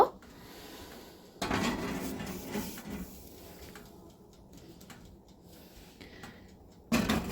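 Two cake molds go into a preheated oven, with a metallic clunk and rattle at the start and again near the end. A quiet hiss fills the gap between them.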